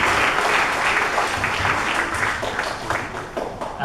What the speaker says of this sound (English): I want you to give a big applause for all the children who have been in this